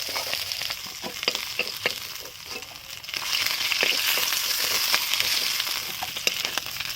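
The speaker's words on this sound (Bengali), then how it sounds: "দেখো মাছ ভাজা মার প্রায় কমপ্লিট" Fish fries in an iron wok over a wood-fired stove, a close crackling sizzle broken by sharp stirring scrapes and clicks, swelling louder in the second half, with no talk.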